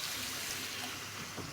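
Water pours into a cooking pot of sautéed onions, a steady, close splashing rush lasting a second and a half with no voices.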